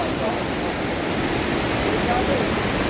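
A river rushes through Bukhansan National Park, a loud, constant broadband roar of flowing water that stays steady and close throughout, with no breaks.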